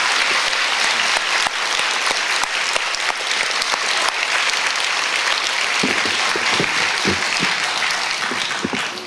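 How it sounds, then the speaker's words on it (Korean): A church congregation applauding in a new church building, dense sustained clapping from many hands, loud and continuous throughout. "우리 아름다운 공간을 우리 교회에 허락해 주신 하나님께 한번 뜨거운 감사의 박수"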